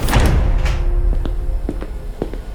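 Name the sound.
operating theatre door bursting open loudly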